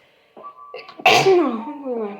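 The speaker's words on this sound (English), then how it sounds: "When you hear me sneeze" A single sharp sneeze bursts out after a couple of short breathy intakes, followed by a trailing voiced exhale, close and clear.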